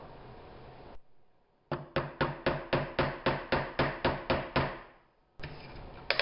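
A fretting hammer taps a stainless steel fret into a guitar fretboard, about a dozen sharp, evenly spaced close strikes in a steady rhythm, with no talk over them.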